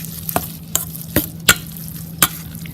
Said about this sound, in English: Mix together so the noodle will absorb the sauce very well.